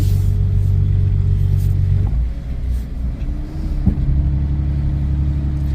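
A truck engine rumbles deep and loud, close up, as it pulls off in first gear, with a steady low drone that dips briefly and then settles back to an even growl.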